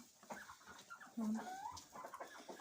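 Hens in a warm coop during frost, with soft, overlapping clucks and murmurs, several birds close by and fairly quiet.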